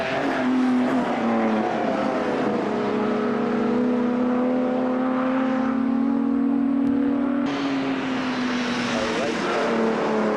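Triumph TR race cars pass on a track during a 1995 race, a loud sustained engine drone that shifts in pitch as cars go by, a new car taking over near the end.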